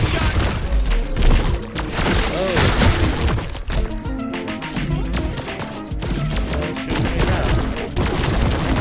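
In the shooter game High On Life, the Long Shot sniper gun fires in a chaotic run of sharp cracks, crashes and smashing impacts, loud and dense, with voices talking over the combat.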